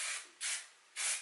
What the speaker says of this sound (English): So I'm gonna use the Moroccan oil hairspray.